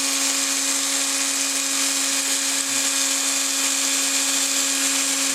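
A small drill bores into a 1:64 Hot Wheels model car, a steady high-pitched whine with a constant tonal hum, continuous and close, no voices.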